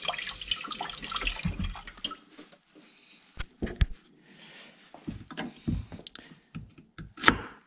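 Potatoes being washed in a sink of water for vegetable soup, with irregular splashing and sloshing in bursts, some louder swishes and occasional quieter gaps, close by and with no talking.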